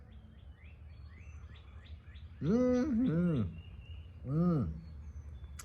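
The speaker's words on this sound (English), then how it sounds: "you hearing all those birds singing over there, just tweeting up a storm like crazy?" Morning birds sing nearby, a run of quick chirps followed by louder, rising and falling whistled calls repeated in bursts, over a low background hum with a brief murmur from a person.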